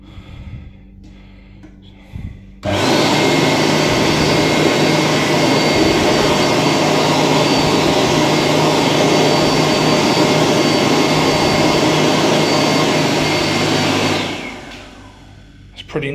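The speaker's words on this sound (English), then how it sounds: "Let's give this a go" Hand dryer in a UK public restroom roars steadily and loudly for about twelve seconds after a brief lead-in of quiet room sound, then winds down as the airflow stops.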